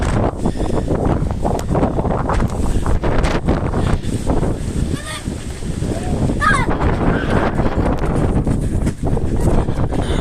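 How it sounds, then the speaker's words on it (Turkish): Strong, roaring wind at night in a village buffets the microphone continuously, with a steady rushing noise and a faint high whistle partway through. "İnanamıyorum bu nasıl bir rüzgar sesi"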